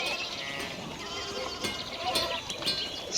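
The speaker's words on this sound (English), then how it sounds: "it's all these sheep again" Sheep bleat in a farm scene from the medieval video game Pentiment, several overlapping high calls over a steady hiss of ambience, moderately loud and continuous throughout.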